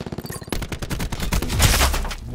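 Rapid gunfire exchange in Call of Duty: Black Ops 4 multiplayer, a dense loud burst of overlapping shots that builds in intensity, with no talking.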